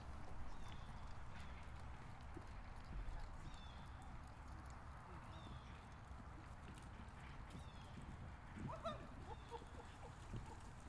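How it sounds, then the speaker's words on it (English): Rhythmic hoofbeats of a horse moving at a canter on soft ground, steady and moderately distant, with outdoor ambience and faint voices. "This horse has done more canter departs today than he's ever done in his whole 10 years."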